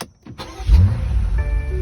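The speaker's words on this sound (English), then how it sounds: "we're going to start the car." A 2022 BMW M5 starts up nearby: a short mechanical click and whir, then the engine catches with a deep rumble that settles into a steady, fairly loud idle.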